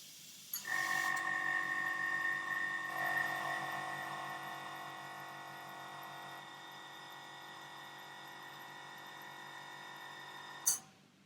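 An air compressor for an airbrush setup runs to refill its tank from 40 back to 60 psi, a steady near motor whine with tonal hum that starts abruptly, drones evenly, then cuts off with a short hiss.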